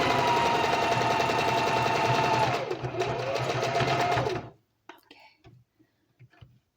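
A sewing machine stitches fabric at steady speed, its loud motor hum and rapid needle chatter running for about four seconds, dipping briefly midway, then stopping abruptly, followed by faint handling noises.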